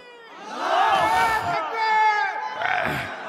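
A crowd at an Islamic religious sermon shouts the takbir together, a loud swelling chant of many voices rising and falling in two or three surges over a few seconds.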